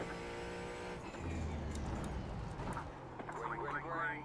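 A Ford Mustang GT4 race car engine at Laguna Seca in the iRacing video game, a quieter revving drone with pitch changes and a short rough burst, heard under a speaking voice.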